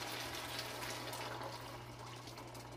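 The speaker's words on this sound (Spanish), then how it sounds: "echarle el caldo" Broth being poured into a pot of pickling onions for Peruvian chicken escabeche, a steady close liquid rush and splashing that continues throughout with no talk.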